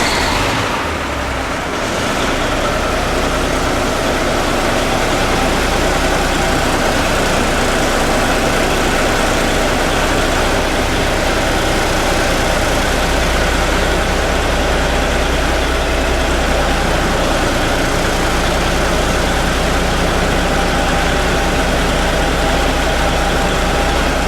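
A 1986 Kenworth heavy hauler truck engine cranks and starts, then settles into a loud, steady, low diesel idle that runs unbroken for over twenty seconds.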